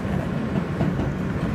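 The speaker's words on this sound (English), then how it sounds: "and there's the R train." A New York City subway R train rumbles past close by, a loud, steady roar of wheels and rail clatter filling the whole moment.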